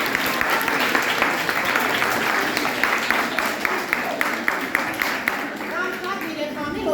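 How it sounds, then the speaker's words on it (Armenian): An audience at a school cultural event applauds music and art school teachers, sustained dense clapping from a crowd with individual claps standing out, continuing throughout and thinning slightly toward the end. "եկեք ծափահարենք եւ ասենք շնորհակալություն"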